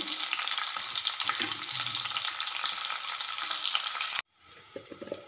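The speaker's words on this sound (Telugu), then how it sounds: "ఒక 1/2 టీ స్పూన్ వరకు జీలకర్ర ఆవాలు, చిట్టుపట్లాడుతుంటే ఒక చిన్న ఉల్లిపాయ కట్ చేసి ఇందులో వేసుకోవాలి" Cumin and mustard seeds splutter with chopped onion frying in hot oil for a brinjal, potato and tomato dish, a dense steady crackling sizzle that cuts off abruptly near the end, leaving quieter clinks and faint stirring.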